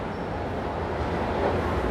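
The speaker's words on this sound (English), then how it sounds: "definitely it's going to be my first train ride in Panama." Steady, close rumble of a train ride in Panama City, a continuous rolling rail noise with no pauses.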